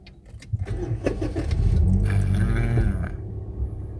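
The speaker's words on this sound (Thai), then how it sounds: "เดี๋ยวผมจะสตาร์ทให้คุณลูกค้าดูนะครับ อ่าเหยียบเบรกไว้นะครับ" A 2013 Toyota Vios engine cranks over and catches, then settles into a steady idle for a couple of seconds before the sound drops away, close and fairly loud with a faint jingle of keys at the start.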